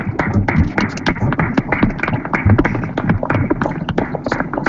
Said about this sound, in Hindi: जोरदार तालियां बजाएंगे इस गवाही के लिए